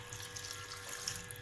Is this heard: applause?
no